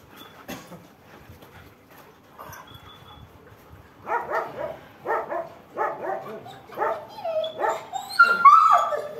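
A dog barks in a string of sharp, close yips and whimpers, quiet at first and then louder and more rhythmic, ending in high-pitched excited cries.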